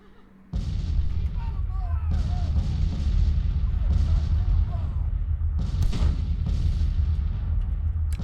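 Artillery fire in the Civil War strategy game Grand Tactician: The Civil War, a dense continuous rumble of cannon booms with louder blasts near 2, 4 and 6 seconds, partly under talk.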